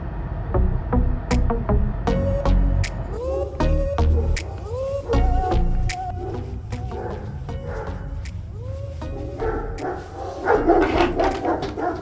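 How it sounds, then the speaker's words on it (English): Large dogs barking loudly and repeatedly at a house during a food delivery, close by, with sharp overlapping barks and growling in a burst that keeps going. "There's nothing more exciting than delivering to a house and large barking dogs"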